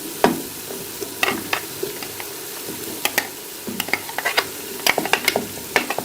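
Vegetables for macaroni fry in a pan while a utensil stirs them, giving a steady low sizzle under a run of sharp scraping clicks and taps that come in uneven bursts, close and moderately loud, with no talking.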